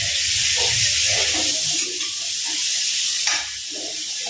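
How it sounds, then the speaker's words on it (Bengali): Fish pieces coated in turmeric stirred in a hot pan for a Bengali katla kalia fish curry, giving a steady close sizzle with soft scraping stirs, louder in the first moments and then settling lower. "এটাকে আমি একটু নেড়ে নেবো ভালো করে"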